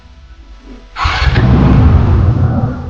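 A used TVS Apache RTR 160 motorcycle fires up about a second in, its engine catching with a sharp burst and then settling into a steady, close, rumbling run after a quiet start.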